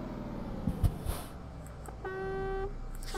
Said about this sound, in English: My horn sounds silly